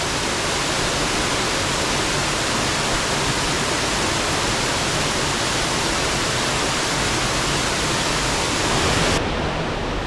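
Scale Force waterfall near Crummock Water pours in a dense, constant roar of falling water, close and loud with an unbroken hissing rush that stays even throughout and cuts off abruptly at the end.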